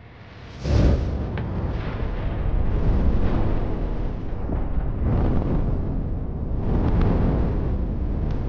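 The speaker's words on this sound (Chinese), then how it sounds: "随着爆炸结束，采气井上的火焰顿时消失" A film explosion at a gas extraction well, set off with nitroglycerin: a sudden heavy blast followed by a long, rolling low rumble that swells and fades several times, with no talk.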